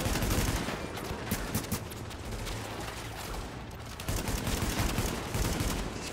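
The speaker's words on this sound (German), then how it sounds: "Achtung, er schießt wieder." Enemy gunfire in the video game The Division: rapid bursts of automatic shots crackle repeatedly and fairly loud throughout, with no talk over them.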